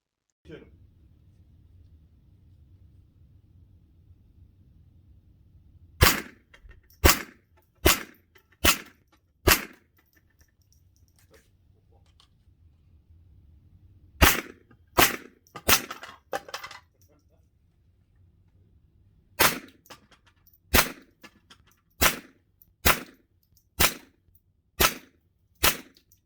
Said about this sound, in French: on va passer au 22 long rifle, donc avec le MP15, et on se retrouve donc au pas de tir